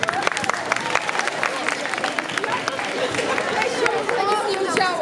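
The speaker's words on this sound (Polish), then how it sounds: "wielkie brawa" Applause for school classes at a high school spring-day event: dense clapping from a crowd mixed with lively chatter and babble throughout, fairly close and steady.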